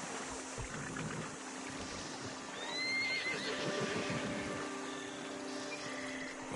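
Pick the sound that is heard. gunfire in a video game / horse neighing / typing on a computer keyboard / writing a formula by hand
horse neighing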